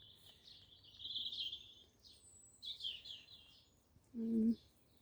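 Goldfinches in a wildlife garden give a few short, high twittering chirps at moderate distance, with quiet gaps between them and one brief lower thump near the end.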